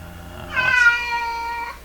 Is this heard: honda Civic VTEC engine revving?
no